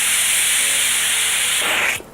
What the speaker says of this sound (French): On va ouvrir la valve pour laisser l'air s'échapper.